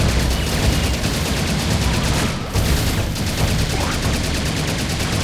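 Rapid Uzi fire in the shooter game Serious Sam 2, a loud continuous burst of dense gunfire with explosive booms, heard alone with no talking.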